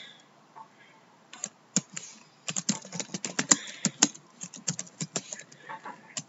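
Rapid bursts of computer keyboard typing while code is retyped in Roblox Studio, starting sparse then becoming dense, uneven keystroke clicks, close and fairly quiet, with no talking.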